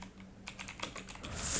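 Typing on a computer keyboard while setting up a streaming widget, a brisk series of light, close keystroke clicks in an irregular rhythm that grows a little busier toward the end.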